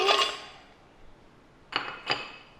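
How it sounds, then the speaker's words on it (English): Ice and water are poured into a blender jar, ice clattering into the hard container with a rattling burst at the start, then two sharp clinks a moment later in an otherwise quiet space. "I'm going to pop the ice and the water in,"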